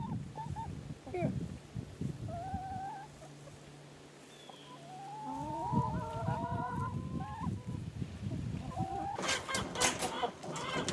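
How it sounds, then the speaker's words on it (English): Chickens cluck and honk-like calls sound from a cage during fall planting work, brief bird calls scattered over a background of movement, with a steady low hum in the middle and a burst of sharper, rattling noise near the end. "Well, we got the chickens all caught in the cage."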